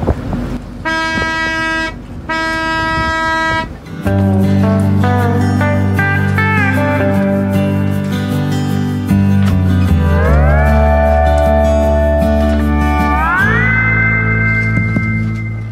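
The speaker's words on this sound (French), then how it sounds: "Des coups de corne de brume quand même." Deep, loud foghorn blasts sound in long sustained tones, shifting pitch between blasts, with a pulsing electronic-sounding start and no voices.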